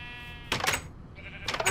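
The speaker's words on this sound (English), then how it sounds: "Pink sheep, get back over here." Sheep bleating in the Minecraft video game, two short wavering bleats in quick succession, fairly loud and close, with a steady tone beneath them.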